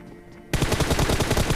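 Rapid automatic gunfire in the mobile battle royale game PUBG Mobile, loud and close, starting abruptly after a quiet moment and continuing as a fast burst.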